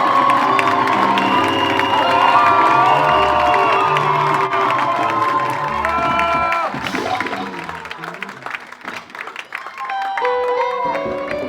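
A crowd at a gospel concert welcomes an evangelist with loud cheers, shouts, whoops and scattered clapping, with music and a voice over the din throughout.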